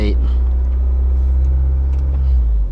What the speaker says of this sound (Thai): เวลาเราเร่ง เครื่อง